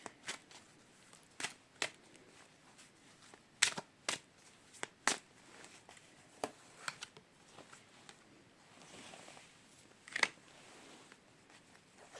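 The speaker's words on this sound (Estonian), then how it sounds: "Kõigepealt segan välja kaardid ja siis vaatame, millest nad räägivad." Playing cards are shuffled by hand, with about a dozen crisp riffling bursts at irregular intervals, close and fairly quiet, with no speech.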